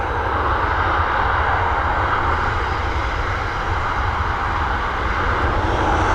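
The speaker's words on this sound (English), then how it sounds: "Will be a quick look because she's spooling up." Airliner jet engines spool up at Dublin Airport in a steady, loud, broadband roar that holds for several seconds with a strong low rumble and no voices over it.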